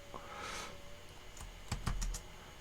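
A few computer keyboard keys are pressed, including a Ctrl+C combination, as a handful of sharp, close clicks in a quiet room, the strongest cluster near the end.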